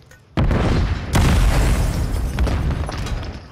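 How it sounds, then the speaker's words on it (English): A grenade going off inside a room in a Call of Duty match: a sudden loud boom, then a second heavy blast about a second later, each trailing into a long rumbling decay with no talk. "So I just got killed from a grenade in the room"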